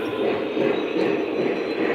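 A Lionel O-gauge model train runs steadily along its track with a continuous close rolling rumble and whirr, with no talking over it.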